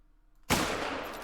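A single .270 rifle shot fired while hunting in the video game Call of the Wild, a sudden loud blast after near silence that rolls into a long, dense echoing roar through the rest of the moment.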